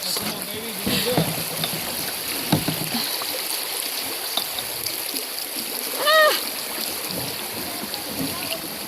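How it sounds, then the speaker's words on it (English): A small boat is paddled through water on a nature outing, with soft splashes and trickling water strokes under occasional nearby speech and a faint chirping call. "One-handed paddle."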